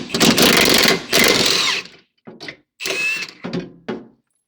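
A power tool cuts bolts free under a Porsche in loud, close bursts of harsh mechanical grinding, with two long runs followed by several shorter, choppier bursts separated by brief silences.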